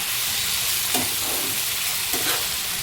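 Masale bhat rice sautés in a pan with a steady, dense sizzle, broken twice by brief scraping stirs as the rice is turned, close and fairly loud.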